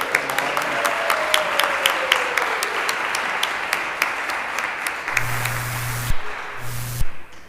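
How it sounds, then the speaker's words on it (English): Audience applause at a St. Paul's Episcopal Church annual meeting, dense continuous clapping from a room of people lasting several seconds, with a brief electronic hum near the end. "Let's give a round of applause to Bob Pratt for all his work"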